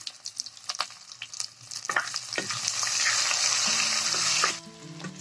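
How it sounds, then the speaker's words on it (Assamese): Onions fry in a pan with soft clicks and stirring scrapes at first, then a steady hiss of sizzling builds and holds for a couple of seconds before easing off. "পিঁয়াজখিনি দি গল্ডেন ব্ৰাউন হোৱালৈকে ফ্ৰাই কৰিম।"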